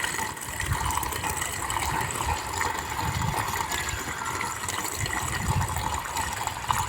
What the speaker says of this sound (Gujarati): આપણે પાણીની નળી ચાલુ કરીને આવી ગયા છે અને આપણે પંપ ભરાવાનું ચાલુ થઈ ગયું છે